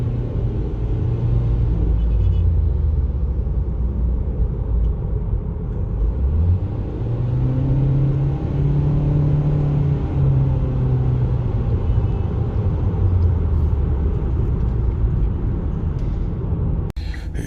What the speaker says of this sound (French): quand on monte déjà à partir de 3000 tours, le bruit se fait vraiment ressentir